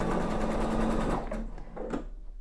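Pfaff Expression sewing machine stitching in reverse, a close rapid mechanical whirring and chatter that slows and stops, followed by a few soft clicks.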